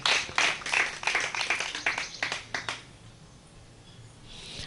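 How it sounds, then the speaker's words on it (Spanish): Church congregation clapping in praise: a run of distinct, fairly quick claps from a small group for about three seconds, then fading into quiet room tone. "Den un aplauso al Eterno"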